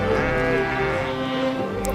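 Sheep bleating in Changthang, Ladakh, a loud, wavering, drawn-out cry held through the clip from close range, with a faint second call near the end.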